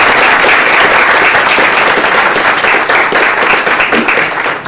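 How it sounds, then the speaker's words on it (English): Loud, dense applause from an audience at an Afghan community program, with many hands clapping in a sustained roar that thins slightly toward the end. "I'd like to just invite you to applaud them for what they have done"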